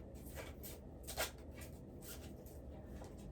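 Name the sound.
tarot cards being shuffled and drawn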